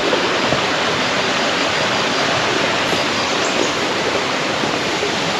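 Tad Maloed Song Su waterfall in Laos pours with a constant, loud broadband rush of falling water, steady throughout with no voices.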